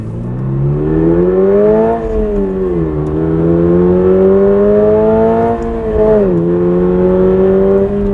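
A 2022 Subaru BRZ's engine, heard from inside the car, winds up loudly through the gears toward its 7,500 RPM redline, the rising whine dropping briefly at each shift before climbing again.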